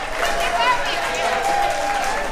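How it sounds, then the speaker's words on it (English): A crowd of well-wishers greeting veterans claps and cheers in a dense, continuous wash of applause, with voices mixed in throughout. "there are cheers from crowds of well-wishers"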